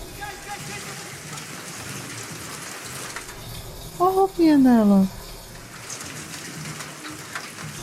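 Rain falls steadily in a TV episode scene, a constant soft hiss throughout, while a voice speaks briefly over it and a short sliding tonal sound cuts through midway.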